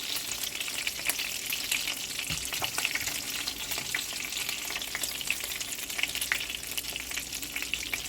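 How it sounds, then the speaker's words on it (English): Meatballs simmering and frying down in sauce in a pan, a steady close sizzle and crackle with occasional stirring sounds, continuous and moderately loud with no talking. "I'm going to let them cook down in the sauce."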